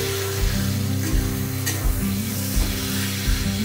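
Pomfret fish masala sizzles and fries steadily in a pan as it is sautéed, with a continuous close hiss and occasional stirring scrapes.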